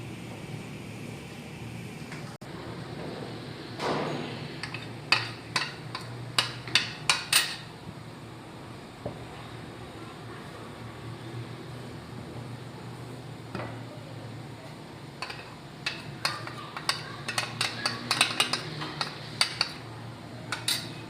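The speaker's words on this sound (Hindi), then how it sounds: "अब खोया शामिल करेंगे इसमें और चलाते रहेंगे।" A spoon works khoya into carrot kheer in a pot, making scattered metallic clinks and scrapes that come in bursts, close and fairly quiet, with a faint background hum.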